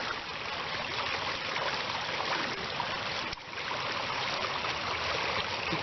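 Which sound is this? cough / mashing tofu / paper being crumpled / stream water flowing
stream water flowing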